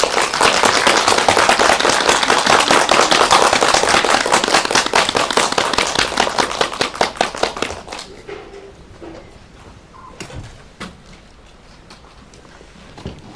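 A cinema audience at a post-screening talk for an animated film claps loudly and densely, a dense, steady roar of hands for about eight seconds that thins into a few scattered claps.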